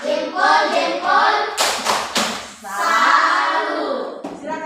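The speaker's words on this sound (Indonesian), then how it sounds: "mari kita berikan tepuk salut lagi buat kelompok 3" A classroom group of students and teacher clapping in a brief salute for a small discussion group, quick bursts of hand claps and slaps mixed with chatter and voices throughout.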